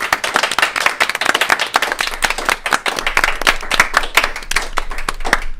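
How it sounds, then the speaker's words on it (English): An audience claps for everyone on stage at a live Adventurers Wanted: Rebellion show, a steady, dense burst of applause filling the room from start to finish. "call for a round of applause for everyone on stage."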